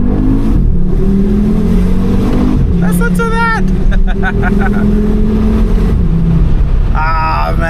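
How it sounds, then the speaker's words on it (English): A 2014 Audi RS Q3 five-cylinder engine revs loudly nearby in a couple of rising and falling bursts while someone speaks excitedly over it. "Ah man, that 5-cylinder tone is unmatched."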